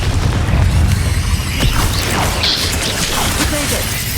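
A Confringo fire spell explodes in Hogwarts Legacy, a loud dense boom with crackling debris that stays strong and rumbling for the whole four seconds.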